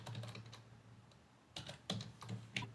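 Typing on a computer keyboard while entering a command, quiet clusters of sharp key clicks with a short pause in the middle, then a few more taps close by.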